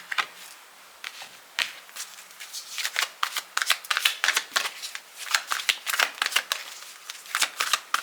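Tarot cards being shuffled by hand: quick, crisp riffles and flicks that come in irregular bursts, close and fairly quiet, with no talking.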